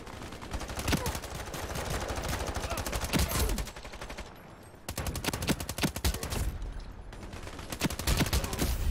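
AR-57 rifle fire in the video game Ironsight, rapid automatic bursts of loud gunshots in close succession, with one brief lull before the firing resumes.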